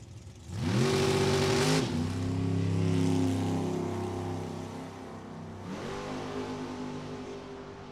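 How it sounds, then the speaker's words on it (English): A Chevrolet Cavalier drag car with a 632 cubic inch engine roars hard at a drag strip, holding a loud, steady engine note for several seconds, then easing off before a second surge of throttle. "he's going to use every inch of that 632 cubic inch power plant to do it"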